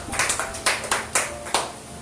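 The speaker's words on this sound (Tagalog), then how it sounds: "Isang malakas na palakpak muli para sa Panginoon" Applause in a church service rings out as a few loud, separate claps that echo in a reverberant hall rather than sustained clapping, with no talk.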